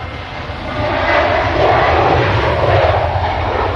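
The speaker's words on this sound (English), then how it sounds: "Ryanair to Murcia, it's a 737." Ryanair Boeing 737 departing Manchester Airport, a loud, broad engine roar swelling after the first second and holding steady, close and unbroken by talk.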